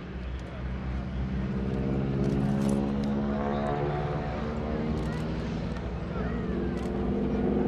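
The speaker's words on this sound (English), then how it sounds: "There's the engine sound" A steady propeller aircraft engine drones throughout at an airshow, a low harmonic hum that swells slightly as it passes, with faint voices in the background.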